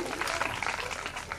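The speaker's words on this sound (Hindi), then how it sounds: "ये कन्हैया जी जोरदार तालियां इनके लिए।" An audience at a Bhagwat katha devotional gathering claps steadily, a brief, even wash of applause that fills the hall at moderate loudness.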